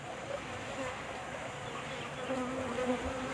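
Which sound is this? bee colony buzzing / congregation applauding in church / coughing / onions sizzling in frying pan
bee colony buzzing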